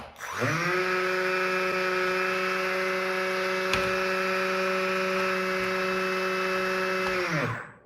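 A brushless drone motor driven by PWM from a Raspberry Pi Pico spins up quickly, holds a steady mid-range whine with strong tonal harmonics for about seven seconds, then winds down at the end.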